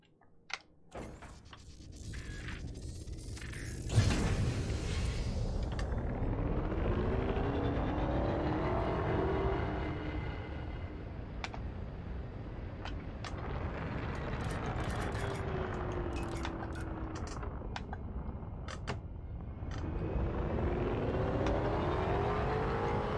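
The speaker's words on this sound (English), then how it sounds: "Got a very nice boost sound." Spaceship boost in Elite Dangerous, a rising engine roar that swells after a sharp onset, sustains, then surges again in repeated sweeping whooshes, moderately loud and alone.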